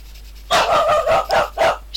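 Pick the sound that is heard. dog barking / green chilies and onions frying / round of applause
dog barking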